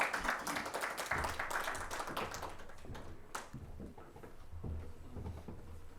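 An audience at a literary stage event applauds guests as they come up, an uneven patter of hands that thins and fades over several seconds, with scattered louder individual claps.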